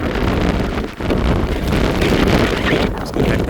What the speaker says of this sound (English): It's about 5 degrees, but it's fairly windy as well.